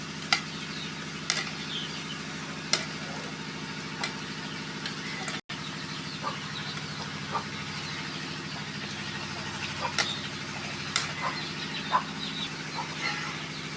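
Mutton frying until reddish in a pan gives a steady low sizzle with a constant hum underneath, broken by scattered light scrapes and taps of stirring, close and without talk.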